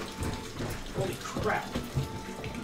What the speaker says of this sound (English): Is that the faucet? It started.